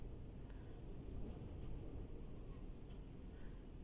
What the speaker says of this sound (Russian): Ветер такой прям ураганный.